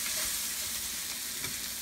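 Garlic fries in a pan while being stirred, a loud close sizzle with soft scraping strokes throughout and no voices.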